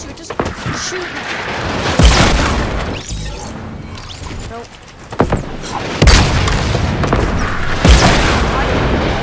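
Gunfire in the video game Fortnite, with loud booming shots landing around 2, 6 and 8 seconds over a dense, noisy game mix, while a voice talks underneath.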